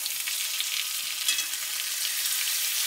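A NY strip steak sears in a cast iron pan with a loud, continuous, hissing sizzle at close range and no voices.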